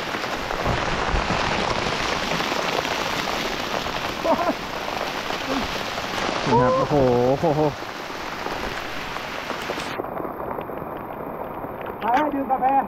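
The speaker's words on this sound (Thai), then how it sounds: "ฝนมาเร็วมากครับเม็ดใหญ่ด้วยนะ" A sudden downpour of big raindrops drums steadily on surfaces in a forest, loud and continuous, while someone speaks briefly and exclaims over it.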